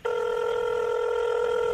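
A telephone call being placed, a steady electronic dial or ring tone with several layered pitches that starts abruptly and holds loud and unbroken.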